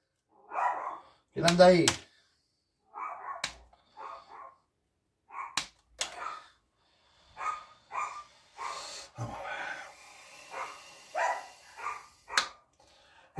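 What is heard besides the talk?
dogs barking at people passing by the door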